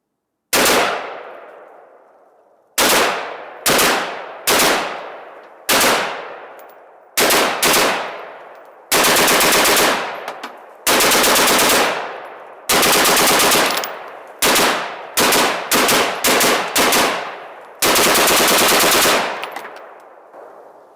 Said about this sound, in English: Now the Echo with 55 grain ball and the 60 round Magpul drum with the Colt A1 upper.